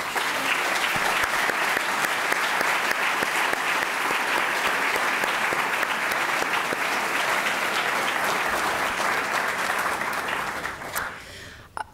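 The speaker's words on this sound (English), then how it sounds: "let's give them a warm round of applause" A large lecture audience at an award evening gives a long, full round of applause that holds steady for several seconds before tapering off into a few last claps.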